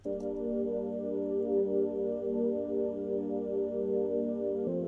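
Soft sustained synthesizer pad holding a warm chord, steady and smooth with a gentle change near the end, played alone at low volume.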